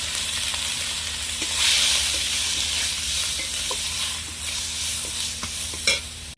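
Shrimp sizzling in hot oil in a wok with whole cumin and five-spice seeds, a steady loud frying hiss with stirring scrapes and small pops throughout, no talking.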